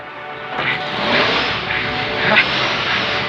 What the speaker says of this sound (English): Hey, a car. A car with a door open. In the alley.